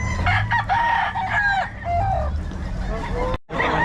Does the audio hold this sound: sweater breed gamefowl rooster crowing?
yes